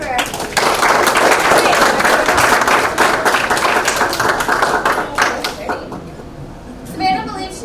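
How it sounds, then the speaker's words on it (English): An audience at the 2020 Winthrop Harbor pageant applauds a contestant with loud, dense clapping that thins out toward the end, and a speaker's voice comes in at the close. "Get a round of applause for her."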